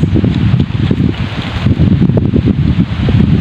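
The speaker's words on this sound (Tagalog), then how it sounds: "sobrang lakas ng hangin, no? Parang may bagyo." Strong, gusty wind roars continuously outdoors at a rural fishing spot, buffeting the microphone with loud, rumbling low-frequency noise throughout.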